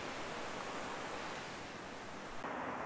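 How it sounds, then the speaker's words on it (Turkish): Steady broadband rush of a waterfall and running water in a landscaped rest area near a dam in Adana, continuous and fairly close, with no voices over it. "Gayet böyle su sesiyle, şelale sesiyle dinlenebileceğiniz bir alan."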